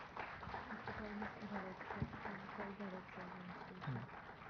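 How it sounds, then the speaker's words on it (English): Audience applause for a panelist at a Vishwapreneur '16 panel discussion, a steady wash of clapping that holds for several seconds alongside background voices. "A big round of applause for Mr."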